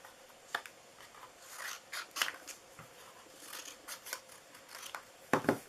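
Scissors snip through scrap paper in a series of short, crisp cuts spaced irregularly, close and fairly quiet, with light paper rustling between them.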